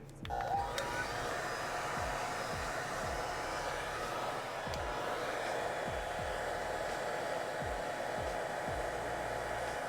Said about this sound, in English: And then let's blow dry.